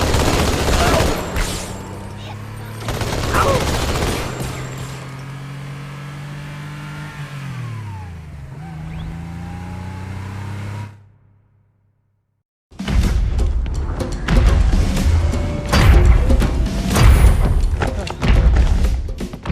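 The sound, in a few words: rocket fire and explosions in video game Halo 2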